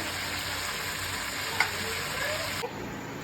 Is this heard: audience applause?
no